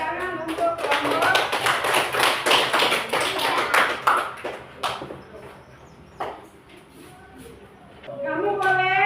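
A group of children clap their hands together in a classroom, a dense, rhythmic burst of claps for several seconds that fades out, with a voice speaking briefly at the end.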